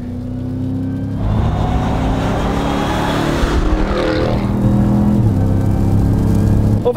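A Dodge RAM TRX pickup with a 712 hp engine accelerating hard, its deep, loud engine roar rising steadily over several seconds from inside the cabin, with no speech.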